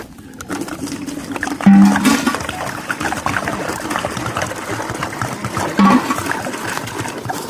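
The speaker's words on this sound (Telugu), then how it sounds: "అది నీళ్ళు ఫుల్గా నింపు" Water pouring steadily into a container outdoors beside the Kinnerasani project reservoir, a continuous rushing gurgle with a couple of brief louder surges, no talk over it.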